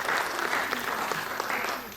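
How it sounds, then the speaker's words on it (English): A university foundation day audience applauds the media and marketing team, a dense, even wash of many hands clapping at once, loud and sustained throughout. "huge round of applause to the media team and the marketing team who has put together such a nice collection of our memories through videos"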